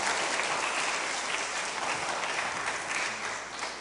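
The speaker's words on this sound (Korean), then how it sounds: "우리 다시 한번 뜨거운 환영의 박수 한번 부탁드립니다" Warm, steady applause fills a hall as a Friday worship gathering welcomes three alumni guests to a panel talk, many hands clapping evenly for about four seconds before easing slightly at the end.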